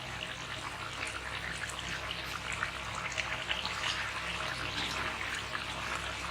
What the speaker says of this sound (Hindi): एक बोल में हम लोग पानी लेंगे